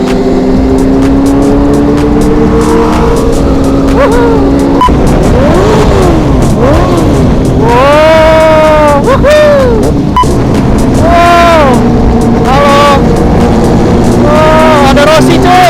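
A Kawasaki Ninja H2 motorcycle engine revs loudly and repeatedly, its pitch sweeping up and down in surging blips, while people talk and exclaim around it amid constant background noise.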